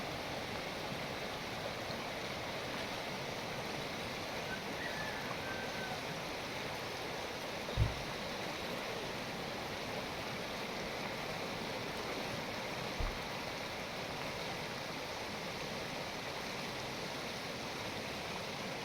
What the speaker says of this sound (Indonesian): air sungai udah mulai naik bosku